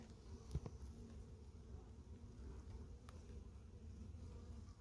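Honeybee workers buzzing at a hive whose frames are not yet built out, a faint continuous low drone with an occasional louder bee passing close, no voices.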